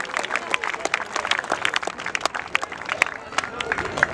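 An audience on stage at a Mumbai District Football Association Yuva President League event gives light, scattered clapping mixed with crowd chatter and a voice talking throughout, moderately distant.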